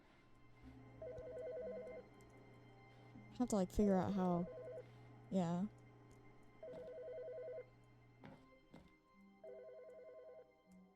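A telephone rings in repeated bursts in The Stanley Parable: Ultra Deluxe, with people talking between the rings and louder voices in the middle.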